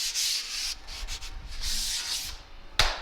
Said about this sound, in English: Quick sand on the edge.